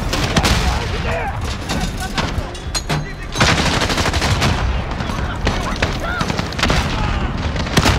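Rapid gunfire and booming grenade-launcher blasts fill a Modern Warfare firefight, loud and dense with bursts of shots and explosions, while a player shouts over the din.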